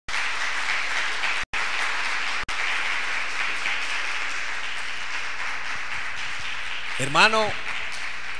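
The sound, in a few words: applause for the King of Glory in church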